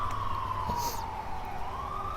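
An ambulance siren wails past outdoors, a single rising and falling tone that dips and climbs again, moderately loud over a low traffic rumble, with no talking.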